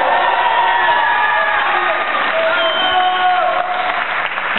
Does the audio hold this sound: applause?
yes